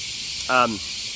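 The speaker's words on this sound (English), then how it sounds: "You guys hear those bugs in the background? They're really loud today, louder than normal." A steady, loud high-pitched insect drone fills the background outdoors, briefly interrupted by a short voice sound.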